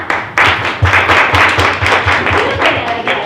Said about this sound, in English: Applause wasn't solicited.